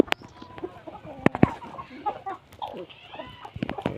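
Native breed hens and roosters cluck on a farm, with repeated close clucks and brief louder bursts over a busy background of other fowl.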